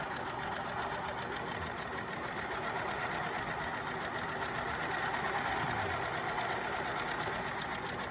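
A sewing machine stitches continuously along the edge of a two-ply napkin, a steady close mechanical hum with a fast, even needle pulse and no speech.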